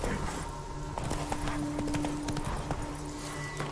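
Horse hooves clip-clop at a steady riding pace in The Witcher 3, close and even over a low, constant game ambience with faint tonal music.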